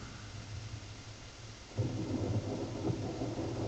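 A thunderstorm rumbles with steady rain; a low roll of thunder swells up partway through and lingers over the hiss of falling rain.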